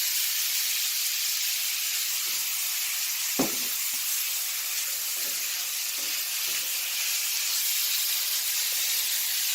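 Beef tips sear in olive oil in a cast iron skillet, a steady broadband sizzle running throughout with a few soft stirring clicks and one sharp clatter early on.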